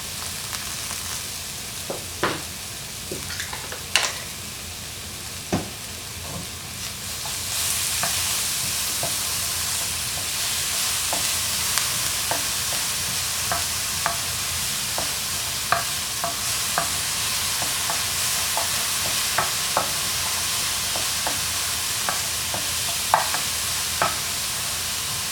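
One tablespoon of minced garlic sizzles steadily in a hot pan with scattered clicks and scrapes of a utensil stirring it, the frying hiss swelling partway through and holding loud and close with no talking.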